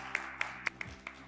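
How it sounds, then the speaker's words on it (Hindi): Sparse, faint audience clapping: five distinct hand claps in a steady rhythm, quiet and somewhat distant. "जोरदार तालियां।"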